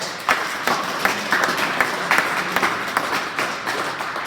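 Crowd applauding award-winning wrestlers at a school wrestling awards ceremony, a steady moderate spread of many hands clapping with a few sharper individual claps standing out.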